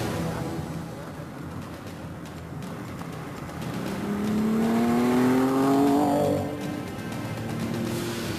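A Ford Capri Mk1 drives on a race track, its engine note swelling and rising in pitch as it passes by at moderate distance, then fading away.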